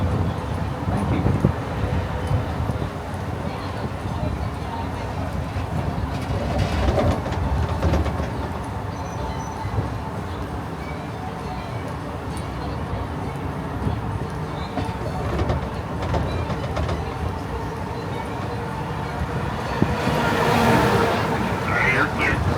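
Disneyland backlot tram rolling along with a steady rumble and faint rail-like clatter, loud and continuous throughout, with brief swells of noise near the middle and end.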